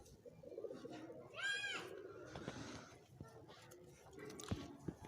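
Teddy pigeons coo softly among faint background chatter, with a short burst of bird sounds followed by scattered low coos and small knocks.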